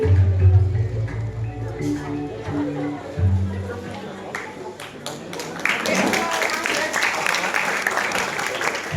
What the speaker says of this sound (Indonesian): tepuk tangan kelas 12-4 yang kita tunggu-tunggu dengan tema drama Putri Junjung Bue